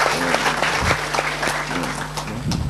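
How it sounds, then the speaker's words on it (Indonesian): Audience applause at an Indonesian public forum, dense clapping throughout with a few louder individual claps standing out and a low hum underneath. "Jadi tepuk tangan buat Indonesia."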